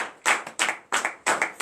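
Congregation clapping hands in rhythm at a Saturday morning prayer service in Comè, Benin, four sharp, close bursts of clapping in a steady beat, with no voices.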